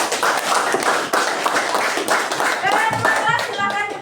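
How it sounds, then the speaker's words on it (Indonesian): A classroom of children claps together in a short burst of applause, dense and close, with some chatter mixed in. "Iya, tepuk tangan untuk kita semua."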